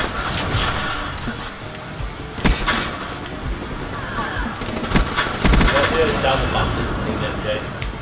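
Turret gunfire in a video game: sharp shots and short automatic bursts scattered over a busy game soundscape, fairly loud and close.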